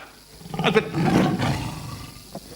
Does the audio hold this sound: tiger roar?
yes